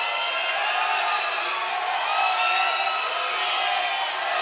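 A large crowd at a televised kids' dance competition cheers and yells in a steady, dense roar that holds for several seconds without a break.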